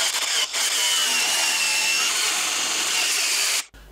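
A power tool grinds through a welded steel patch panel on an FJ45 Land Cruiser body, cutting at a 45-degree angle. A loud, continuous high-pitched whine runs close up for several seconds with one brief dip, then cuts off.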